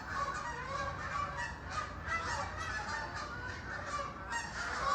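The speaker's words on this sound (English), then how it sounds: "Enjoy the sound of ducks, geese, perhaps." Geese honking outdoors through an open door, a steady run of overlapping nasal honks, moderately distant and fairly quiet, with no talk over them.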